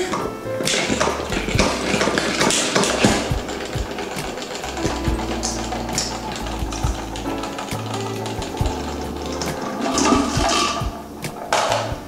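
A salad spinner whirls washed butter lettuce, giving a steady rumbling drone broken by rattling knocks and clatters at close range.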